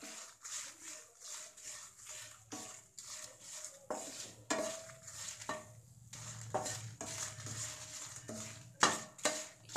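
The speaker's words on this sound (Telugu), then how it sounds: "మీడియం ఫ్లేమ్లో మనకి బాగా రోస్ట్ అయ్యే వరకు రోస్ట్ చేసుకోవాలి" Red chillies roasting in a pan over a medium flame, heard as soft irregular scraping and clinks of a spoon against the pan, close and fairly quiet, with no speech.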